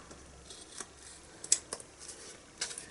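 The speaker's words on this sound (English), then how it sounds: "we're just going to use our scissors just to cut off the end" Scissors snip off the excess edge of cardstock for a handmade thank-you card, several quiet, crisp cuts at irregular intervals, close and isolated against a faint room background.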